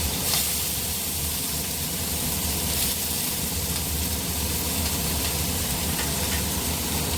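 Chopped capsicum sizzles in a little leftover hot oil in a pan, a loud, steady hiss of frying that runs unbroken throughout.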